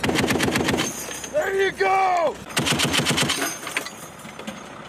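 U.S. Marines fire a machine gun in rapid bursts, loud and close, with sharp repeated cracks that stop for a shouted command in the middle before the firing resumes.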